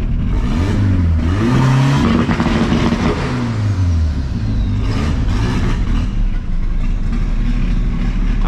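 Turbocharged Volkswagen Gol engine revved hard and close, its pitch rising and falling repeatedly as it climbs into the rev limiter cut, loud and continuous with no talking.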